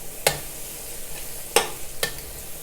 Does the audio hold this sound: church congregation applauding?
no